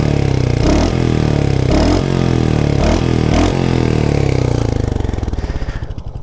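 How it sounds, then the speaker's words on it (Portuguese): A Royal Enfield Hunter 350 motorcycle idles close by with a steady, even thumping rumble, broken by four short throttle blips before the engine note eases off at the end. "O ronco que eu falei para vocês, ó."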